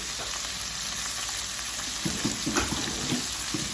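Pepper rings sautéing in a pan with a little garlic, a steady close sizzle with a few stirring scrapes near the end.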